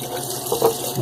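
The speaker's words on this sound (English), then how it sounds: "Let me clean out my bowl." Water gushes briefly while a shaving bowl is rinsed out, a short close splash and swirl lasting about a second.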